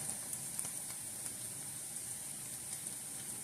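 Mushrooms and onions for a mushroom gravy sizzle steadily in a pan, a soft, even frying hiss with faint crackles throughout and no talking.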